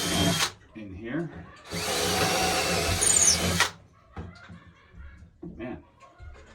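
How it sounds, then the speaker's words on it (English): Power drill bores holes during a Sega Carnival arcade machine restoration, two loud whirring bursts, a short one and then a longer one of about two seconds, with someone talking between them and laughter faintly in the background. "So we're going to put these holes"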